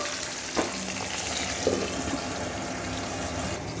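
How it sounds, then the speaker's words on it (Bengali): Small gulsha and tengra fish frying in oil in a covered pan, a steady close hiss of sizzling with a couple of faint clinks and bubbling pops, no talk. "ওদিকে মাছ ভাজা হোক"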